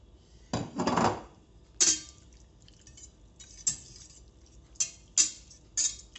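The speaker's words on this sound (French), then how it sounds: "Et toujours à feu assez doux, je vais rajouter mes cèpes." Porcini mushrooms tipped into a pan over gentle heat with melted foie gras, then stirred: a soft sizzling scrape followed by several sharp metallic clinks of a utensil against the pan, spaced irregularly.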